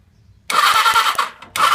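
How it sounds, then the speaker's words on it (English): A BMW G 650 motorcycle engine cranks on the starter without firing: two loud bursts of whirring starter-motor churn after a quiet start, with a short break between them and no catch or idle. "Motor crank's good"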